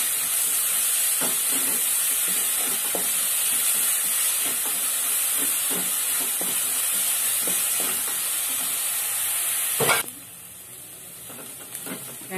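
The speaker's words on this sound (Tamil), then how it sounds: "நல்லா வதக்கிக்கோங்க. வெங்காயம் போட்டு" Onions sautéing in a pan for Tamil crab curry, a loud steady sizzling hiss throughout with faint stirring scrapes, broken by a brief clatter near the end.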